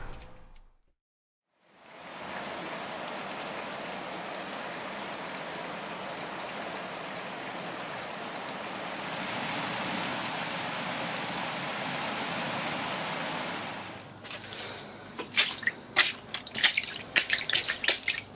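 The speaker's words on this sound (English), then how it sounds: "when it rains, the garage literally fills up with water" Steady rain leaking into a garage, a continuous close hiss of falling water after a brief silence, turning to scattered drips and splashes toward the end.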